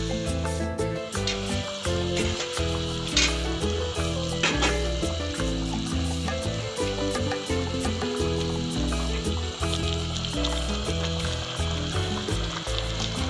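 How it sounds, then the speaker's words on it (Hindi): Chicken sizzles and crackles steadily in hot oil in a karahi, a continuous frying hiss with occasional scraping, no one speaking. "अब ऐसा ऐसा ये हमारा गोश्त पकना शुरू हो गया"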